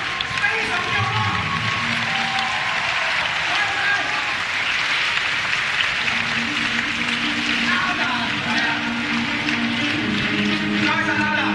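An audience applauds steadily at a student union supper gathering, the clapping sustained throughout with voices and some tonal sound running beneath it.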